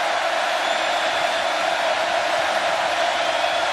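Dense roar of a packed stadium crowd at a Clemson versus Texas A&M college football game at Kyle Field, a steady loud wash of noise with no breaks or distinct voices.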